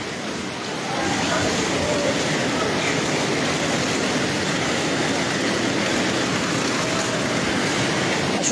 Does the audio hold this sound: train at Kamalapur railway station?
yes